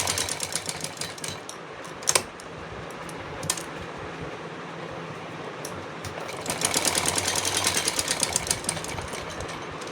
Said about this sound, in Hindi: ये मैंने सिलाई लगा दी है चारों तरफ इसमें वी आकार का काट के।